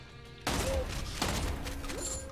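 A shotgun blast in the video game Immortal Redneck, one loud sudden boom followed by a rumbling tail and a second smaller impact, with continuous game noise behind it.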